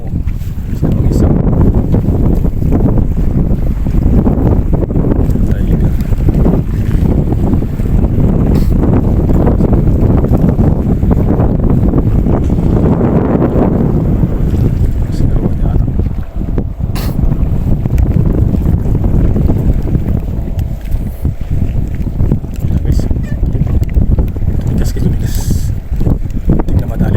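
Strong sea wind buffets a small fishing boat off Al Reem Island, Abu Dhabi, a loud continuous roar of gusts and microphone rumble with water wash beneath, while people talk faintly at times.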